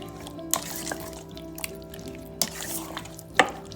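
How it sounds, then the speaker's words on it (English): Chicken korma marinade is mixed in a bowl with wet, squelchy stirring and a few sharp clinks of a spoon against the bowl, quiet and close, with faint dripping between strokes. "See, that's how you should mix it"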